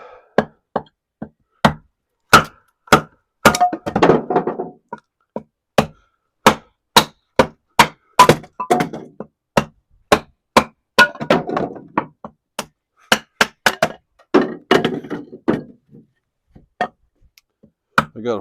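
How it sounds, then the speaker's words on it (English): Kindling wood is chopped outdoors on a sunny winter morning: sharp, evenly spaced knocks of a blade splitting wood, close and crisp, with brief rustling of handled sticks between strikes and no talking. "Thought I'd get out here and get some kindling cut up."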